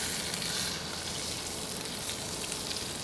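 Steak searing on a hot cast iron pan inside a Weber kettle grill, giving a loud, constant, close hiss of sizzling fat.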